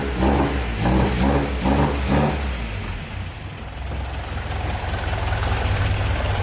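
A restored MGB engine runs through a newly fitted exhaust, loud pulsing revs at first that settle into a rough, throbbing idle, close and uninterrupted by talk.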